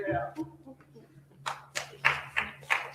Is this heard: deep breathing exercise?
no